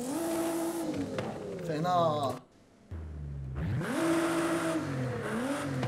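A modified 2019 Nissan 370Z twin-turbo V6 with a sport exhaust in Forza Horizon 5 revs hard and close, pitch climbing and falling twice with a short quiet gap between, and a voice speaking briefly.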